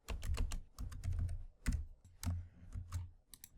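Someone types on a computer keyboard, a close, quick run of crisp key clicks in uneven bursts with short pauses between.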